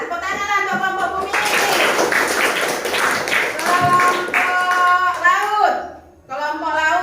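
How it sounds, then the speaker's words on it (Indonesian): Classroom applause for a student group as grades are announced, a burst of clapping lasting several seconds with voices of children and a teacher talking over and around it. "tepuk tangan untuk kelompok bumi"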